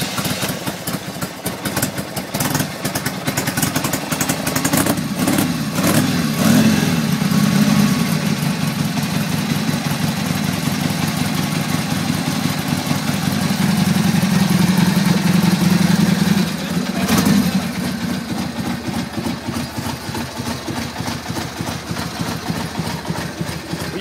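Small engine idling steadily after being choked and started, a continuous close rumbling putter with a slight rise in pitch midway before settling, no voices.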